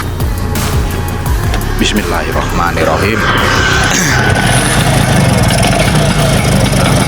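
A Vespa Strada scooter engine catches and settles into a steady, loud idle, with someone speaking briefly at the start.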